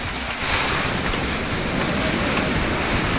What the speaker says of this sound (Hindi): तेज बारिश, हवा आंधी और गार।